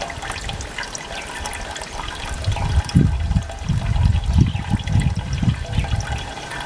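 Water poured over salty soil drains through filter pans into a container below, a loud, continuous gushing and trickling that swells midway, close and without voices.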